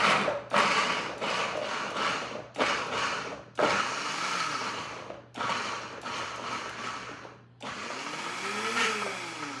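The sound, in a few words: blender pulsing chopped carrots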